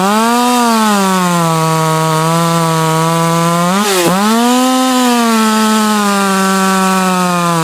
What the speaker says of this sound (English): This saw here, I've upgraded the oil pump. It's got a ported cylinder head and a ported muffler.